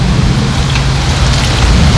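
Heavy rain pours down during a storm at an outdoor cooking spot with a Dutch oven, a loud, dense, continuous hiss of drops filling the whole stretch with no talk.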